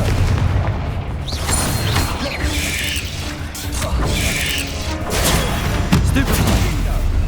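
Confringo spells in Hogwarts Legacy burst into a dense run of loud booming explosions and crackling impacts, layered over rumbling game effects with no break.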